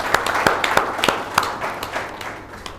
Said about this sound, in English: I think you guys need to give yourself a round of applause.